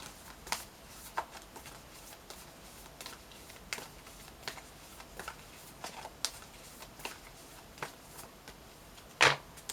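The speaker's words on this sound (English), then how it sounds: "Now I'm going to pull one from our Magical Spell card deck" A Magical Spell oracle card deck is handled and shuffled, giving soft, scattered riffling taps and flicks at an irregular pace, close and fairly quiet, with one sharper burst near the end.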